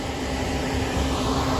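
A big farm tractor runs at harvest time, its engine a steady loud drone with a whining hum that holds even throughout, and no voices are heard.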